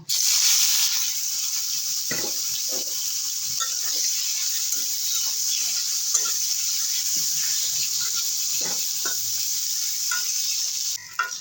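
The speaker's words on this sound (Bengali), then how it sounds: "এই তেলে বেগুনটাও ভেজে নেব" Brinjal frying in oil in a pan, a steady close sizzle with scattered crackles and a few utensil scrapes, no talk.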